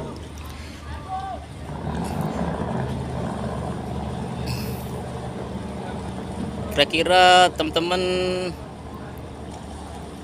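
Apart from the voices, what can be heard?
ferry Raputra Jaya 88 manoeuvring to dock at Merak port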